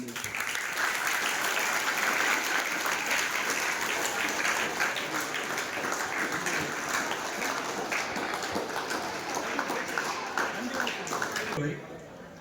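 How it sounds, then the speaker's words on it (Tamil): An audience at the opening ceremony of a new branch library in Pachur, held for the 57th National Library Week, claps loudly and continuously for about twelve seconds before the applause cuts off abruptly. "அவருக்கு இன்னும் ஒரு பலத்த கரகோஷத்தை"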